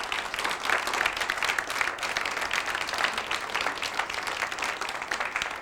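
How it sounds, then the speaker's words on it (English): A studio audience claps steadily for a presenter at a 1988 Chevy C/K pickup launch event, a dense, even wash of applause heard up close throughout. "let's have a nice hand for Mr. Ray Crawford."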